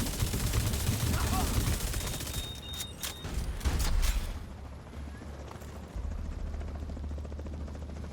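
Heavy light-machine-gun fire in the shooter video game The Division 2, dense rapid bursts with sharp cracks over a loud continuous rumble, steady and close throughout.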